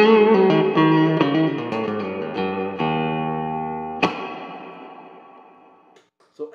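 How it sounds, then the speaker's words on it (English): Spring reverb on an Orange CR60C guitar amplifier: a clean guitar phrase of several notes rings out loud and close, then a hard pluck trails into a long, twangy, slowly fading reverb tail before a faint noise at the end. "then we go to the spring and the spring's going to have a little twang on it."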